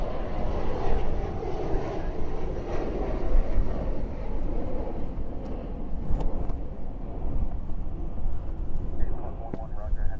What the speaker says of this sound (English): Alright, I'm hearing fighters.